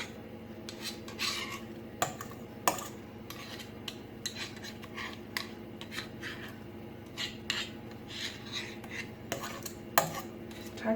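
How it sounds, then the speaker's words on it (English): A utensil scraping baked sticky rhubarb buns off a metal baking pan, quiet repeated rasping strokes with occasional sharp clinks of metal on metal, close up and with no talking. "And just scrape this off."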